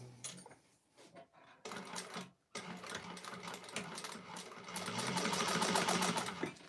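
Sewing machine running in bursts while stitching lightweight fabric for a clutch wallet's interior card slots, with the machine bunching the material; the motor hum stops briefly, then resumes louder and steadier, close by with no talk.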